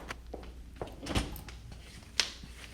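A door is handled indoors in a few quick knocks and thunks, ending with a sharper clatter as it opens, moderately close and fairly quiet.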